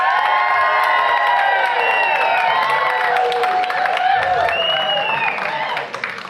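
A room full of audience members at a Dancing With The Belmont Stars charity dance event cheers, whoops and applauds loudly and continuously, with high shrieks and shouts rising over sustained clapping.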